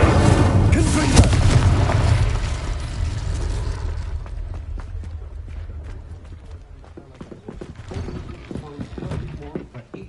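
The Confringo explosive spell cast in Hogwarts Legacy, a loud booming blast that rumbles and decays over several seconds, followed by scattered impacts and game effects.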